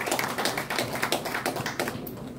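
An indoor audience at a calligraphy exhibition in a gallery in Insadong, Seoul, claps to welcome an invited calligrapher, making a dense, continuous patter of many hands at moderate distance with no voices over it.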